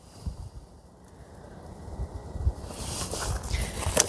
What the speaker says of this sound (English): The wind makes it feel that much colder.